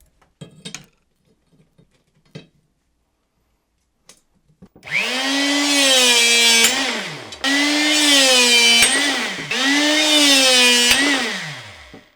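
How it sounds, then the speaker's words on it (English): An Anbull 900W electric hydraulic rebar cutter runs in three loud, sustained droning cycles, each rising in pitch under load and ending in an abrupt drop as the rebar cuts, after a few faint clicks. "when we drop our rebar in here, when it starts cutting, it's going to want to try to twist it like that."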